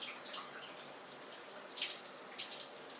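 Shower spray hissing softly and steadily while a dog is washed, faint splashy bursts rising now and then over the constant flow.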